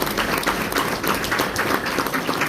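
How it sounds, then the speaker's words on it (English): Audience applause at an ARCA racing champions night awards event in Toledo, a steady dense patter of clapping from a crowd, fairly close and continuous for a couple of seconds. "Everybody, give a warm round of applause for Bobby Shelley."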